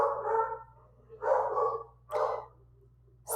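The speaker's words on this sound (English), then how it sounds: "My dogs have decided to bark at something." Dogs bark nearby in a home, three loud barks spaced about a second apart, each a short burst over a quiet background hum.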